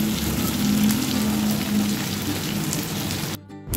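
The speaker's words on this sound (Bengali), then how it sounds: "এবার এটা ভেজে নেব।" Fully boiled potato halves frying in a pan, a dense, steady sizzle and crackle close up, with a short tonal hum underneath before it cuts off abruptly near the end.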